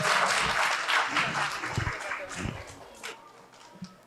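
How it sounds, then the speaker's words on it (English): Audience applause at a 2019 Harrisburg comedy or storytelling show, many hands clapping loudly at first and then thinning out and fading toward the end. "Please join me and give a big round of applause for Jonathan and Heather."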